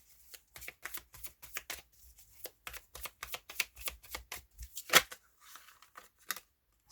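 Tarot cards shuffled and flipped over on a table during a reading, a quick run of crisp papery riffles and slaps, close and clear with brief pauses between, no speech.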